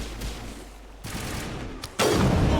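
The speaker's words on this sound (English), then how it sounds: "Oh, that was a good sniper shot from him." A sniper rifle fires in Mass Effect during a fight with Geth turrets, a sharp loud report landing at the end after a stretch of rumbling battle noise, with no talking.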